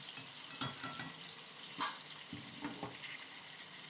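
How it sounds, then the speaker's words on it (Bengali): Potatoes sizzle softly as they are sautéed in a pan before aubergine is added, with a few light scrapes and taps of stirring against the metal. "আমি আলুটা প্রথমে কষে নিচ্ছি"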